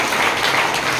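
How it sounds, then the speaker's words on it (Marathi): A church congregation applauds during a sermon, a dense, loud burst of many hands clapping together throughout the short moment. "जोरात टाळ्या वाजवून आपण प्रभू येशूला धन्यवाद देऊया"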